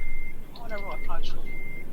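Reversing beeps from a truck in Euro Truck Simulator 2 multiplayer: a steady high electronic tone sounds at the start and again near the end, while a voice in the middle talks and imitates the beeping.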